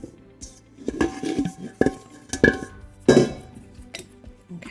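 Spoon stirring pizza dough ingredients in a bowl, close and fairly loud, with irregular scrapes, clinks and knocks against the bowl, no talk.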